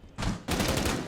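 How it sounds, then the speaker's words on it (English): Gunfire in a tactical shooter video game, fired through a window: two bursts of shots, the second louder and more sustained, with a rapid rattling texture and no talk. "Currently having Lizzie taking some shots through the window."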